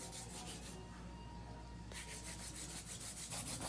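A coarse 100/100 hand file rubbing back and forth across the base of an acrylic nail, giving a quiet, close, rhythmic scratching in short strokes with a brief pause midway.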